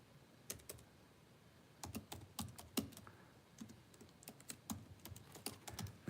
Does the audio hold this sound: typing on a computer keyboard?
yes